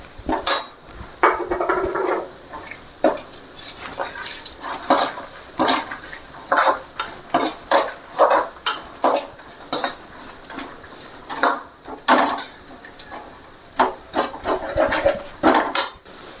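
A metal utensil clanks and scrapes repeatedly against a pan while coconut, garlic and kari vadagam are sautéed for thuvaiyal, sharp close strikes in an irregular rhythm with no talk.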